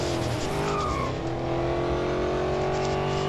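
Continuous racing car engine from the Real Racing 3 mobile game, holding a high steady drone with shifting pitch and brief tire squeal as the car takes a corner, fairly quiet and alone.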